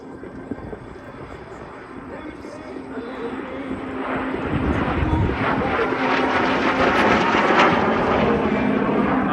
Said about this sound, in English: the Tutor continues to serve as the perfect platform for aerobatic formation displays